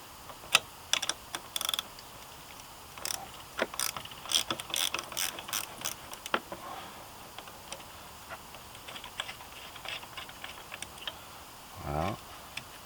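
A ratchet wrench clicks in short bursts while loosening a car battery terminal, quick pawl ticks coming in clustered runs with brief gaps, close and fairly quiet, then a softer scrape near the end.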